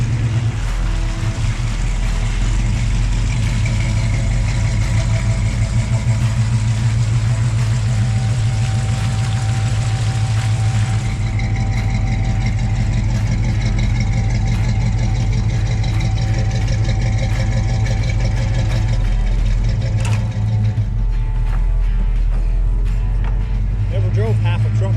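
A half truck's engine runs loud and steady while towing an old Chevy, a throbbing mid-low drone with a slight change in tone partway, and people talking over it.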